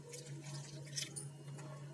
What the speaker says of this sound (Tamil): நம்ம தேவையான அளவு தண்ணி சேர்த்துக்கலாம்